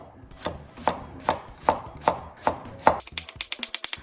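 A knife finely dices a red onion on a board: about seven evenly spaced, crisp chops, then a quicker run of lighter rapid cuts, close and clear with no talking.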